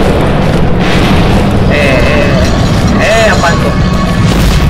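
A loud, dense explosion in the horror game DreadOut Keepers of the Dark, a continuous broadband roar that holds steady throughout, with faint tonal game effects drifting over it.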